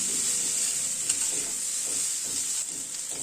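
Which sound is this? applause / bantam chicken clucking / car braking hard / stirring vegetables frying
stirring vegetables frying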